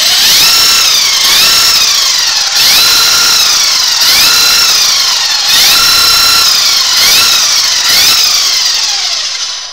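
A Losi RZR Rey radio-controlled side-by-side runs its electric motor in repeated whining revs that climb and fall in pitch, each burst lasting about a second and a half, loud and close with no talking.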